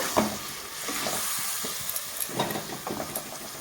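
Tomatoes and ground spices, cumin and coriander among them, sauté in a pan for a simple vegetarian dish, a soft steady sizzle broken by repeated scraping stirs of a spoon, close and moderately loud with no voices.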